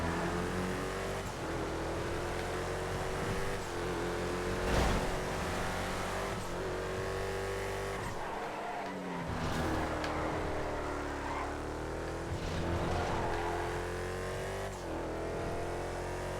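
Drag car engine in GTA FiveM racing around a track, a steady loud droning roar with shifting pitch and revs throughout, briefly dipping around the middle before surging again.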